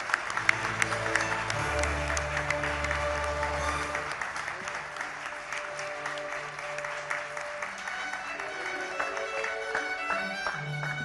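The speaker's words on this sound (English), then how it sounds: "Can we have a loud round of applause," Audience applause at a televised Indian of the Year 2022 award ceremony as Neeraj Chopra is honoured, with a large crowd clapping continuously over a low musical tone that stops partway through.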